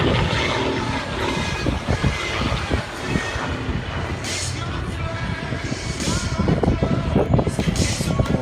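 An S-2S aerobatic biplane flies at the Bournemouth Air Show, its engine roaring loud and continuous with a rough, rumbling texture that swells slightly toward the end, a voice speaking over it.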